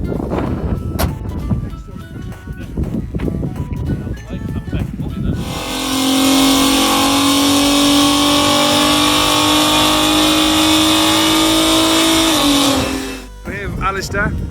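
An Audi TT engine roars on a dyno, climbing in a long sustained rev for several seconds before dropping off, with talk and workshop noise before and after.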